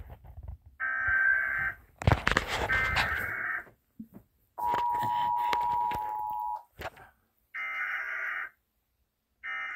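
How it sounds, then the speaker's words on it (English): Emergency Alert System attention tone from a broadcast, steady electronic tone bursts repeating with gaps between them, plus a longer single-pitch tone and a burst of noisy static, fairly loud and alone. "The emergency alert system has been activated."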